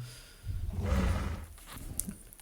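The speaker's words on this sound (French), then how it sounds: "Je sais pas si vous entendez le rugissement," A deep, rumbling dinosaur roar in the Minecraft mod Jurassic Craft swells up and holds for about a second before fading, followed by softer growls and a brief high screech.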